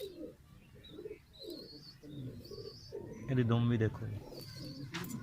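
Pigeons on a rooftop loft coo in a short, throaty burst, with light chirps and rustling around them while someone talks over the birds nearby.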